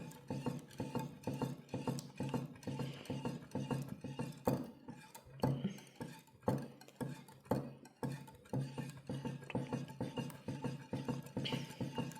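Watalappan mixture with eggs is stirred in a bowl, producing a rapid, rhythmic scraping and clinking of utensil against the container, continuous and close, with brief pauses.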